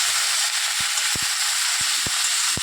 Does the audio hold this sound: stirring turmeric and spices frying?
yes